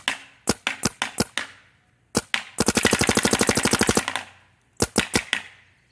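A Planet Eclipse Dark Geo 3 paintball marker fires outdoors at a tire: sharp single pops, a rapid burst of about twenty shots in quick succession, then a few more spaced shots, loud and close.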